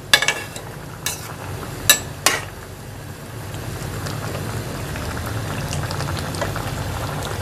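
Beef karahi sizzles and bubbles steadily in a wok over high heat as its liquid cooks off, with a few sharp clinks near the start. The cooking is close and fairly loud, and nobody talks.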